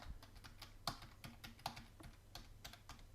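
A password being typed on a computer keyboard, a quick run of close, light key clicks with a few louder taps.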